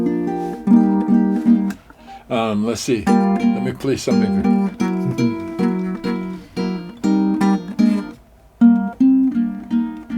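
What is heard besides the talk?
super tenor ukulele being played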